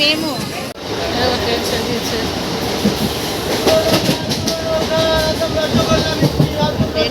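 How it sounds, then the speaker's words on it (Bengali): A train rumbles loudly close by as it arrives at a station, with rhythmic clattering of wheels on rails, a steady heavy roar, and a voice talking over it. "ট্রেন ঢুকে গেছে"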